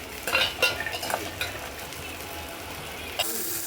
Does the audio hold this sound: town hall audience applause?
no